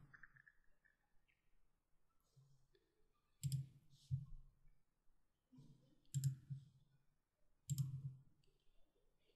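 Mouse clicks while building a WordPress website, arriving as a few sharp single and paired clicks spaced seconds apart in an otherwise quiet room, with brief soft talk between them.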